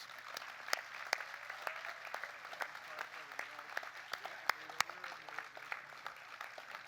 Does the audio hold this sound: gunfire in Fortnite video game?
no